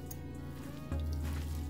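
Gram flour batter with salted onions for egg pakoras is stirred by hand, a wet, squishy mixing sound that runs steadily and close without a break, growing slightly heavier partway through.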